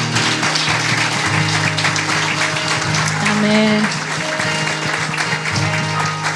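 A church congregation claps together for the Lord at the close of a service, with steady applause sustained across the clip. It sits under singing or music and voices, and one short spoken word is heard.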